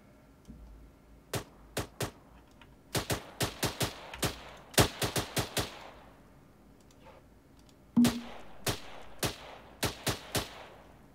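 Gunfire in Arma 3, sharp single shots and quick clusters of rounds cracking out irregularly across the scene, some echoing, loud and distinct with almost no talk.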